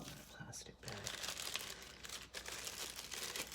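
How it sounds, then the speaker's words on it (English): A plastic bag crinkles and rustles as halves of homemade pie dough are placed inside, producing quiet, close, irregular crackling that comes and goes in short bursts. "Actually, I'll put both of them in a plastic bag."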